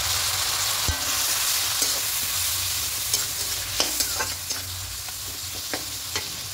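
Ground coriander, cumin, chili and turmeric fry with a splash of water, sizzling in a loud, constant hiss close by while a spoon scrapes and taps the pan at irregular moments; nobody speaks.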